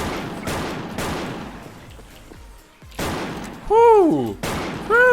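M-500 gun firing in the online shooter Wolfteam: five or six loud, single booming shots spaced about a second apart, some joined by bright, warbling electronic tones, with no talking.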